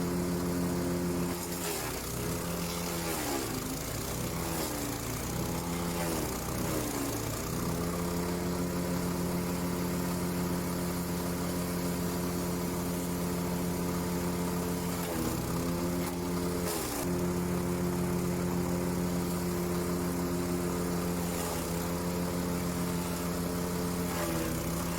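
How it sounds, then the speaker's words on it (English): A self-feeding wood chipper's engine runs steadily at a garden, a constant mechanical drone with a few brief dips and surges as material feeds through, nearby and continuous with no talking. "that's a self-feeding wood chipper"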